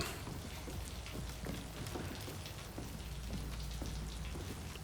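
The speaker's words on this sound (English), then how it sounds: "Oh, it's raining." Steady rain in the video game Fatal Frame II: Crimson Butterfly Remake patters continuously on a surface, with scattered heavier drops and a low background rumble, no voices.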